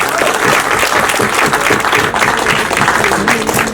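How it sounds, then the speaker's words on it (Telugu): Audience at a movie launch event breaking into loud, sustained applause, a dense wash of many hands clapping close by. "గట్టిగా ఒకసారి చప్పట్లు పెడితే బాగుంటుంది"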